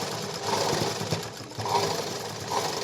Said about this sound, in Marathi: एकदम कडेला शिलाई मारून घ्यायची